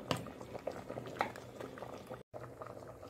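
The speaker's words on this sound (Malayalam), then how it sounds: "അപ്പോൾ ദാ തക്കാളി ഇട്ടിട്ട് ഇവിടെ നല്ലപോലെ തിളച്ചു" Sambar with tomatoes and okra bubbling in a pot, a steady close simmering patter with soft pops and bubble bursts, heard alone with a brief dropout near the end.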